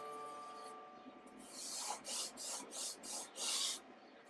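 Several fingers rub soft pastel across paper in about five rhythmic, close, scratchy strokes with brief pauses between them.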